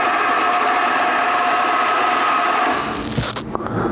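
A Macap M42D espresso grinder running with its motor on, a loud steady whine that holds for several seconds before easing into lower rattling and clicks near the end.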